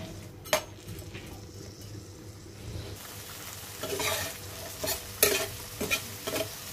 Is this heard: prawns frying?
yes